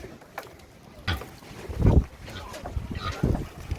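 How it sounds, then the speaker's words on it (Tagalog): Strong afternoon gusts of wind in the Philippines buffet the microphone with heavy low rumbles, rising and falling throughout. "Malakas ang hangin every afternoon."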